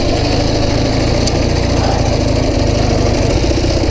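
A motorcycle engine runs steadily nearby, a loud, even droning rumble that holds without change throughout.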